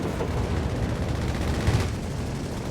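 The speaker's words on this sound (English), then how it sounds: "More strafing runs off here." Dense, continuous rumble of rapid aircraft strafing gunfire and blasts in the video game Company of Heroes 3, steady and loud throughout with no pauses, like a sustained strafing barrage.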